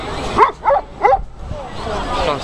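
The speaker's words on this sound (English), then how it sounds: "All the dogs are barking" Several sharp dog barks ring out in a quick cluster amid a crowd gathered for an eclipse viewing, with people talking steadily underneath and more faint yips trailing off afterward.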